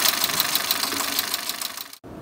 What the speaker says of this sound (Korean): 엔진이 저렇게 떠는데?